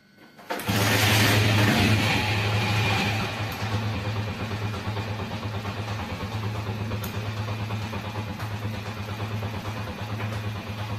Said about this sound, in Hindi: अब जैसे ही बाइक स्टार्ट करता हूँ